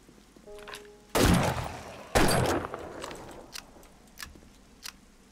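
Two loud, sharp gun blasts in the 7 Days To Die survival game land about a second apart, each trailing off into a rumbling decay, followed by a few faint clicks and knocks, with no talking.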